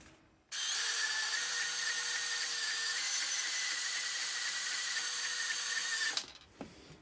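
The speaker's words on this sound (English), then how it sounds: "I'll just cut this off with my bandsaw" A bandsaw cuts off an old vise handle, a loud, steady whine that holds unbroken for about six seconds and then stops abruptly, with no talking.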